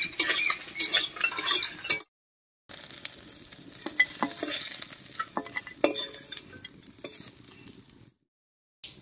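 Small puti fish frying in oil in a village kitchen, heard as bursts of crackling sizzle and scraping stirring, close and fairly quiet, with a couple of brief silent gaps.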